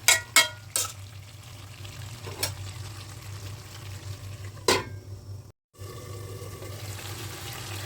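Tomato and spice masala for a fish curry frying in a pan, a steady close sizzle with several sharp clinks of stirring, a brief silence, then the frying resumes.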